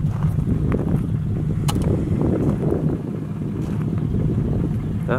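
A Triumph Stag's steady, low engine rumble idles on without pause, deep and loud, with a faint breathy wind noise over the top.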